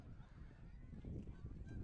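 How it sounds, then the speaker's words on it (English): A flock of geese honks while flying over a football stadium, faint and distant calls scattered over low crowd rumble. "We have a flock of geese flying right over the top of the stadium."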